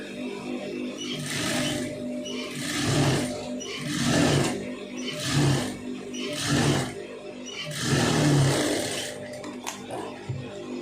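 Tailoring sewing machine stitching a fabric strip in repeated bursts, each run of the needle lasting about a second with brief pauses between, fairly close and steady, with no talking.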